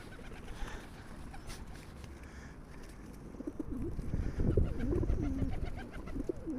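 Pigeons coo in a park during feeding, their low, rolling calls growing louder and more frequent toward the end over steady outdoor background noise.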